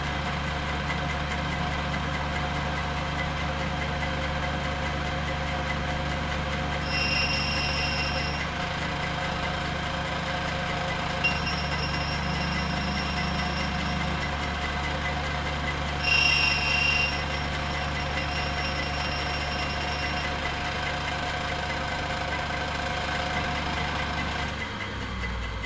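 A grinding wheel spins on a shaft-turning setup for decorative shaft ends, giving a steady mechanical hum and whine that runs unbroken for the whole stretch, with faint high tones coming and going.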